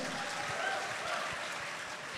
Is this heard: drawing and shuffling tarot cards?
no